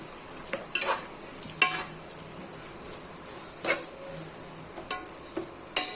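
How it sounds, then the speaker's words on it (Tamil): Mutton intestine with tomato, onion and masala stirred in a pan makes repeated sharp scrapes and clacks of a spoon against metal over a low frying sizzle, close and alone with no talk. "குடலை சேர்த்து தக்காளி வெங்காயம் இது எல்லா மசாலா கலவையும் மிக்ஸ் ஆகிற மாதிரி சூப்பராக கலந்து விட்டுக்கலாம்."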